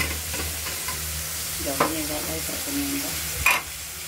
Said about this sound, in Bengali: ধীরে ধীরে চিংড়িগুলোকে ভাজতে থাকবো।